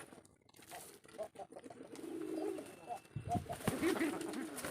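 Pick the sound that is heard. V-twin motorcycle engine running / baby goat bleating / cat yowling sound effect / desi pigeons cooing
desi pigeons cooing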